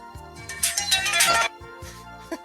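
A phone rings in repeated electronic chiming bursts, fairly loud and close, pausing briefly between rings.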